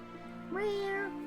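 A cat in the video game Ys IX: Monstrum Nox gives a single clear, rising-then-falling meow, close and fairly soft over a quiet background hum.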